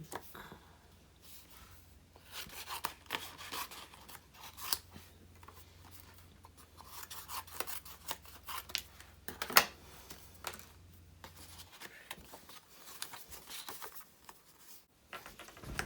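Irregular snipping and crisp cutting sounds as scissors trim a Christmas card, close and fairly quiet, scattered across a quiet room with occasional small taps.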